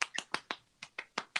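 Fingers snap about eight times in a steady, evenly spaced run, mimicking a slow round of applause during a tabletop role-playing game. The snaps are crisp and close, with no talk over them.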